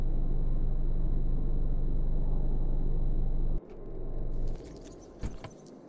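A semi-truck engine in the Cataclysm DDA video game drones loud and steady for several seconds, then cuts off abruptly. A rougher swell of rumbling and rattling clatter follows before it fades.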